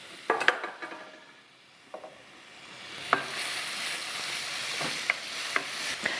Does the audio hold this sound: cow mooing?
no